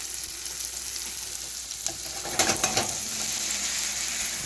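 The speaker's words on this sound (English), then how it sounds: "I'm going to saute the onions a little bit" Steady hissing sizzle of onions sautéing in a pan, with a brief clatter of stirring partway through.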